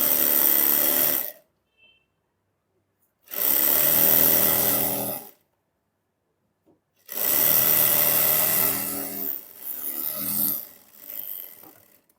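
Sewing machine stitching trouser fabric for a pant or palazzo, running in three loud sustained bursts separated by short silent pauses, the last burst wavering and trailing off unevenly.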